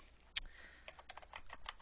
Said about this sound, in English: we're going to type in our article name